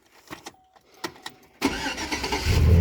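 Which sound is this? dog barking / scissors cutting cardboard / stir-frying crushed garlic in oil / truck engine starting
truck engine starting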